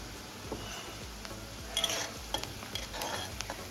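Soft, low-level frying of onions in a pan, a faint steady sizzle with occasional stirring scrapes and light clinks, no talking.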